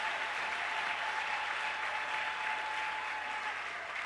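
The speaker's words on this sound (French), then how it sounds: "Est-ce qu'on peut acclamer très fort pour le Seigneur?" A church congregation applauding and cheering for the Lord, a dense, steady wash of clapping from many hands filling the whole stretch without a break.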